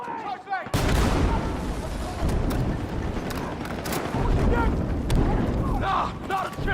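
A frag grenade detonates in a first-person shooter, setting off a sudden loud blast that rolls into rumbling debris and scattered gunfire, with shouted voices and faint chatter breaking through the din.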